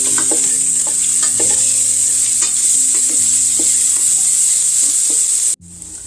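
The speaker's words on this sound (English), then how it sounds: "And we're going to cook up those onions." Chopped onions fry in a tablespoon of olive oil in a pan with a loud, close, dense hissing sizzle and scattered spatula scrapes, cutting off abruptly near the end to a quieter hiss.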